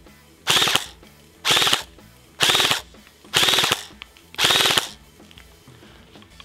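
A lightweight airsoft replica pistol fires five quick buzzing bursts about a second apart, each loud and close with short gaps of quiet between them, and nobody talks.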